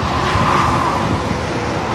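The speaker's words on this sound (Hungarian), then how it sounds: "És iszonyatosan nagy a hangzavar, mennek itt az autók, meg a kamionok." Steady, loud road traffic near a bridge in Budapest, with cars and trucks rushing past in a continuous broadband roar and no distinct gaps.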